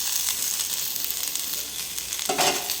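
Vegetables for a methi greens stir-fry sizzle in a pan with salt and turmeric, a steady close frying hiss with faint stirring clinks and a brief louder scrape near the end.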